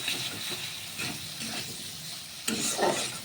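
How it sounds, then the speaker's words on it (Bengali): Bean chorchori sizzles in a pan as it is stirred, with soft hissing and a few scraping strokes, and a louder stir near the end. "শিম চচ্চড়ি বসাই দিচ্ছি"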